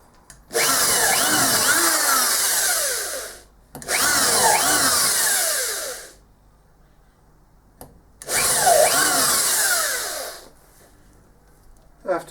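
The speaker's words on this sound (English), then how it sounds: "after drilling so much metal, that was incredibly easy." A power drill whines loudly in three long bursts separated by brief pauses, close and harsh, drilling metal.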